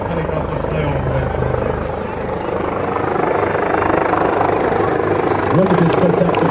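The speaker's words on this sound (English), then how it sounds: "this is your state police helicopter coming right down Broadway" A state police helicopter flies low over a street during a St. Patrick's parade, its loud steady rotor drone filling the scene with crowd noise beneath.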